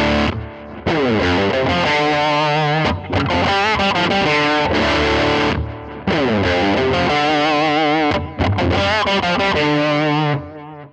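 Electric guitar played through a Line 6 Helix Tweed Blues amp model, loud driven blues phrases and sustained notes with short gaps between licks, alone.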